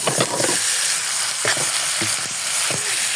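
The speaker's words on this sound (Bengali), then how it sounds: "এখন আমি মাছগুলো ছেড়ে দিব।" Pangas fish sizzles loudly as it drops into spice paste frying in a pan, with a steady hiss and a few sharper crackling bursts.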